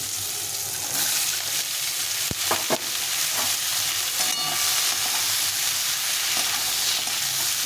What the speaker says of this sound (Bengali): পেঁয়াজটাকে বেশি ভাজবো না, হালকা একটু নাড়াচাড়া করে আমি সবজিগুলো দিয়ে দিই।